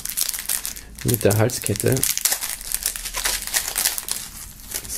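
Plastic foil wrapping pulled off a boxed merchandise item, loud close crinkling and crackling bursts throughout, with a short stretch of someone talking near the start.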